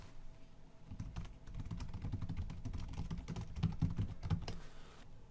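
Rapid typing on a computer keyboard, close-up clicky keystrokes in uneven bursts, with no voices over it.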